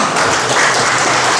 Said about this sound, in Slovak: Tento potlesk samozrejme patrí pani Elene Višnej.